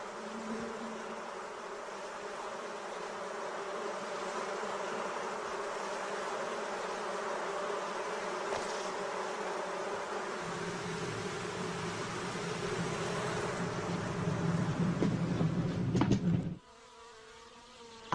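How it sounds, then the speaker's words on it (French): A honeybee swarm drones with a dense, continuous buzz, steady and close, thickening slightly toward the end before cutting off abruptly. "l'essaim a finalement élu domicile dans une vieille souche"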